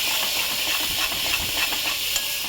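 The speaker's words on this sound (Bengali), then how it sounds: "বাবার সাথে নাড়াতে হবে, নাহলে দই ছানা কেটে যাবে" Spice masala with yogurt is stirred in a pan over low heat, a close, steady sizzle with quick scraping strokes from the stirring.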